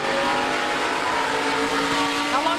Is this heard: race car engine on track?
yes